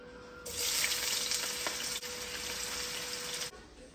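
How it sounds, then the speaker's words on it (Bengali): Onions frying for birista in hot oil, a steady close hiss and sizzle that starts abruptly, holds evenly for about three seconds with faint stirring, then drops away. "তো এটা আস্তে আস্তে অল্প অল্প করে বেরেস্তাটা ভেজে নেব"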